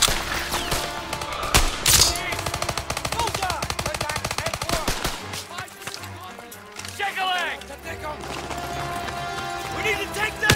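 Machine gun fire rattles almost nonstop through the Death Factory mission of Call of Duty WWII, with dense, loud bursts and scattered single shots mixed with shouting voices and battle noise.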